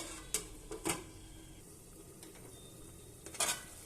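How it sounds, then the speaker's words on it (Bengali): Food being stirred in a cooking pot: a few quick scraping clinks of a utensil against metal, faint and sparse over a quiet sizzle. "নেড়ে দেবো একবার আমি।"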